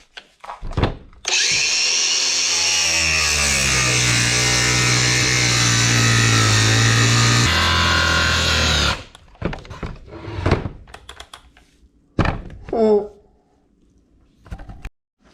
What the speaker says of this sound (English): we are going to cut or trim these edges, make it nice and neat